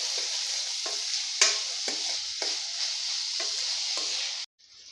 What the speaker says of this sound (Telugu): ఇలా కలుపుకొని ఇది బాగా రంగు రావాలి ఉల్లిగడ్డ ముక్కలు